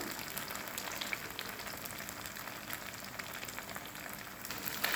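Fish sizzling steadily in a pan over a low gas flame, a continuous fine crackle at moderate, even loudness with no talking.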